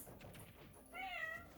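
A pet cat meows a few times indoors near a laundry area, the calls rising clearly over a quiet room late in the moment, close and fairly soft.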